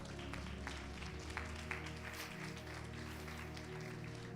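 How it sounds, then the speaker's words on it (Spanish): A church congregation claps together in a steady, dense wash of applause that holds evenly throughout, moderately close with scattered sharper hand claps poking through. "Denle un aplauso al Señor."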